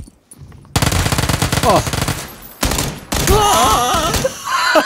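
Rapid automatic gunfire from the video game PUBG rattles in loud bursts separated by short pauses, with brief exclamations from a player between the volleys.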